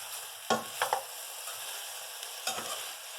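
Food cooking in a Blue Diamond nonstick pan, with a steady background sizzle and several sharp scraping stirs from a utensil, heard close and alone.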